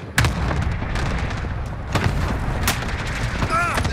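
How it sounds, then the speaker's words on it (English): Gunfire in an online squad shooter match, with several sharp booming shots spread across a few seconds under dense game noise and brief chatter. "They're shooting at me!"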